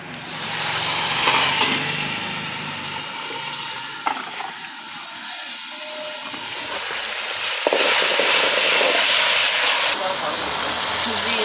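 A tempering of whole cumin in hot oil for masoor lentil and rice khichdi sizzles with a steady loud hiss, swelling in brighter bursts as things are stirred or added, and a voice speaks over it at times.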